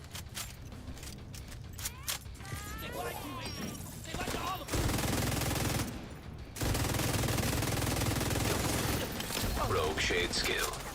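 Dense bursts of enemy gunfire in a video game, loud and nearly continuous with rapid automatic fire and heavier surges midway, with a voice speaking intermittently underneath.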